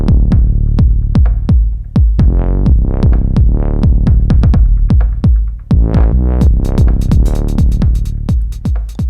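Loud, punchy electronic pattern from an OP-Z synthesizer sequenced with Ableton Live, with thumping bass kicks, rhythmic hits and swelling tonal sweeps in a steady groove, no voices over it.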